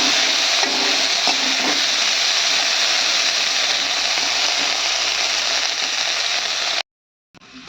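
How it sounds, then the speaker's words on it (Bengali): Beans frying in a wok, a loud unbroken hissing sizzle with faint scraping from stirring, close up, cutting off abruptly near the end. "তো এই দেখুন আমার বিম কড়াইটা ভাজা হয়ে গেছে"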